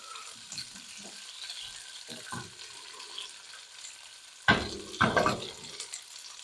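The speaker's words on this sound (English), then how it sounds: "got a little bacon grease in the pan. We're frying it up right now" Soft, low frying crackle of scrapple in bacon grease with a few light clinks, then louder scraping and sizzling bursts near the end as the scrapple moves in the hot grease.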